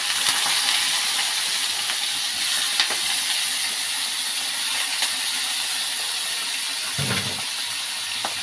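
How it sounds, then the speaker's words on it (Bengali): Nigella seeds sizzle and pop in hot oil before bitter gourd and eggplant are fried, a steady close hiss with scattered small crackles and a low knock near the end. "কালো জিরে ফোড়ন দিয়েছি। সব একদম ফ্যাঁ ফ্যাঁ করে লাফাচ্ছে"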